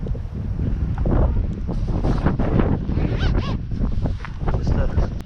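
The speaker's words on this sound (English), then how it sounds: "bloody wind's blowing it over." Strong wind gusts buffet the microphone on an outdoor walk near the riverside village of Rowhedge, a continuous loud roar with rustling and flapping, and a voice talks over it.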